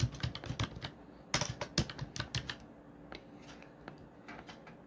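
Quick, close computer keyboard typing as a display name is entered, a burst of rapid key clicks that thins into sparser taps, with no voices.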